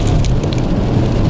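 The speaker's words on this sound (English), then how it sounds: "So it's raining a little bit" Light rain falls steadily outdoors, a dense, even patter with a low rumbling wash beneath it and no voices.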